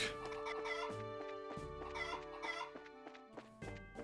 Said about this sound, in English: Got freaking chickens running around everywhere?